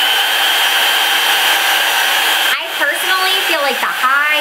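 A budget Dyson-style hair dryer running on its high setting gives a steady, loud airy whine close to the listener, which shifts and wavers partway through as the airflow changes.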